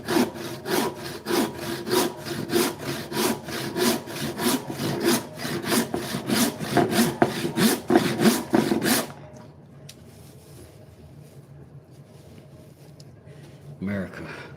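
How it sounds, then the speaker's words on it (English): Hand saw cutting through wood in steady rhythmic back-and-forth strokes, loud and close for about nine seconds, then stopping, leaving quiet room noise with a brief knock near the end. "Saws work like this supposed to."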